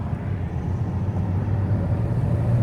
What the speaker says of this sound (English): We really did hit traffic this time.